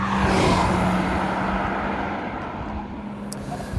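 A turbocharged Mazda Miata, a California-legal turbo kit car, drives past up close with a loud, steady engine roar that fades gradually as it moves off, with no talk over it.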